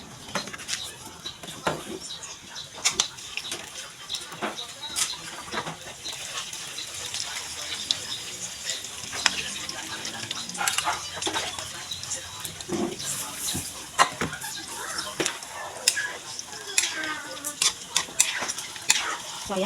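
Tofu frying in hot oil in a pan: a steady crackling sizzle with scattered sharp pops and occasional stirring scrapes, close by and moderately quiet throughout.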